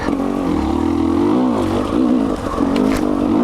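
A 2020 KTM 300 XC W TPI two-stroke dirt bike engine drops a gear on a trail, loud and close, its pitch dipping then climbing again in a steady buzzing drone.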